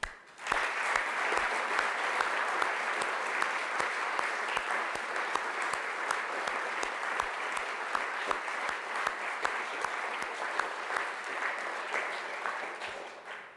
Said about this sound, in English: I'd like to ask for a round of applause for Anne for starting it and to all of you for helping to support it